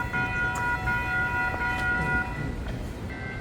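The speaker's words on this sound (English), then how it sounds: "I'm guessing that's the noise that the train makes when it's getting ready to roll, like the ding, ding" A Florida East Coast train preparing to roll in Fort Lauderdale sounds a sustained, ringing warning tone, fairly loud and steady, over rumbling rail noise; the tone cuts off partway through, then briefly returns.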